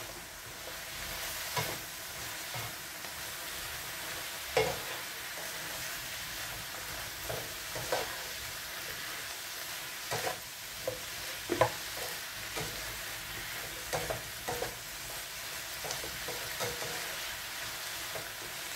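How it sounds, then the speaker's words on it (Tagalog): Jackfruit sautéing in a hot pan for a Filipino coconut-milk dish, a steady close sizzle broken by irregular scrapes and knocks of a spoon stirring through it, with no talking. "gisa lang natin yung ating langka. Ihalo natin mga lods."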